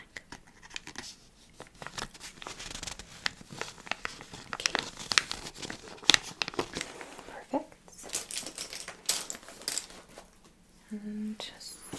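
Cosmetic packaging peeled back at a makeup counter in a mall, heard as close, crisp crinkling and tearing with scratchy rustles, under soft, quiet talk.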